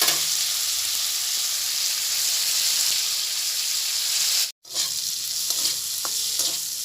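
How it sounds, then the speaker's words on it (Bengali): Potatoes fry and sizzle in a pan with turmeric, giving a steady, close hiss of hot oil. It is broken by a brief silence near the end, and then faint stirring clicks follow. "আর আলুটা দেওয়ার পর ভাজা ভাজা করে নিচ্ছি।"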